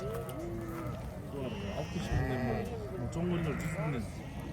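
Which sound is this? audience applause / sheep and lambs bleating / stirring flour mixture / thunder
sheep and lambs bleating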